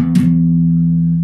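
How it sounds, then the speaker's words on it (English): Squier Classic Vibe Jaguar bass with P and J pickups, a sustained growling low note ringing steadily and loud, with a brief bright pick attack at the start and no talking. "And that's when you can make it sound like this growling sound"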